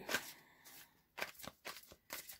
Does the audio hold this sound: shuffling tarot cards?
yes